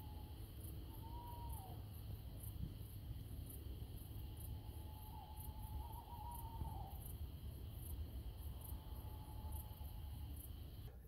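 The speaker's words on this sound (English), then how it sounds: "it's lovely just sat here listening to the owl in the background" Faint owl hoots drift in from a distance after dark on a riverbank during barbel fishing, over a quiet, steady background hiss, coming a few times with long pauses between them.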